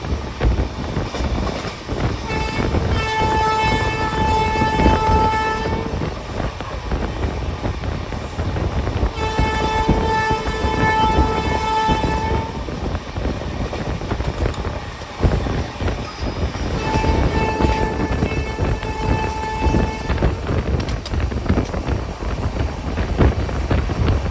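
Train pulling into Bolpur Shantiniketan station, a loud steady rumble of wheels on rails with wind buffeting and repeated long horn tones.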